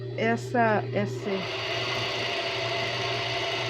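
A sewing machine stitches a reinforcement seam on a ruffled strap dress, a steady mechanical whirr that follows a few seconds of voices and runs on alone at an even level.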